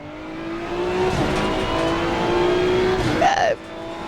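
A GT2 race car in Assetto Corsa Competizione roars steadily, then its engine note drops sharply under hard braking, with a quick rising blip near the end before the sound cuts to a quieter tone.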